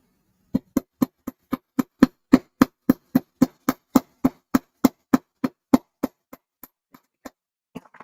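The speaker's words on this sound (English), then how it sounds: "I want to hammer it because I want that to be flat" A hammer striking wire flat on a hard surface to make beading findings, about twenty sharp metallic taps at an even, brisk pace, growing softer and sparser toward the end, close and alone.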